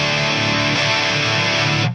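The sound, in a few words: Harley Benton electric guitar, middle pickup, Marshall DSL-20 ultra gain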